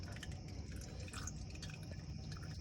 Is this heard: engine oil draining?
yes